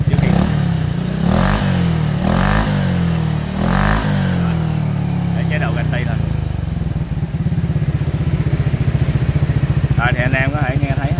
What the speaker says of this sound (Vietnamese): ở mức cái mức ga mà mình nẹt hết ga luôn thì nghe nó cũng không có ồn ào lắm